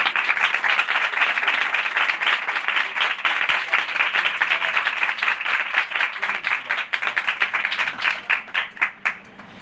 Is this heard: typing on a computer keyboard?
no